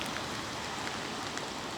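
Steady rain falling outdoors in Blackpool on a wet winter day, a continuous broadband hiss of drops filling the whole moment at moderate level with no voices.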